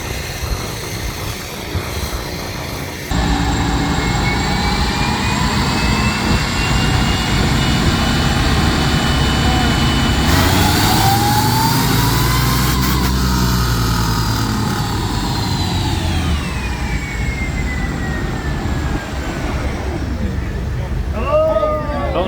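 A loud car engine on a dyno at a Power Tour 2023 stop drones and climbs in pitch as it revs hard, holds, then winds back down, with crowd noise and voices underneath.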